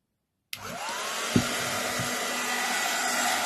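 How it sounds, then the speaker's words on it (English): A heat tool on a low setting blows hot air over grease-proof paper pressed onto a candle, a steady broadband whoosh that starts abruptly and holds loud and even after a brief clunk. "bring in the heat tool again"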